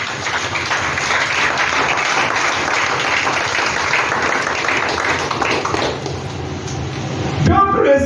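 A church congregation applauds during a French-language service, with dense sustained clapping for about six seconds that then thins out, while voices carry over it.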